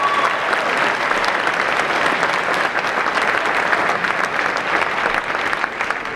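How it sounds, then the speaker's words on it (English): Sustained audience applause at a community talk event, a steady, dense roar of many hands clapping with no break, close and full throughout, with no voices over it. "Let's give him a round of applause just for that."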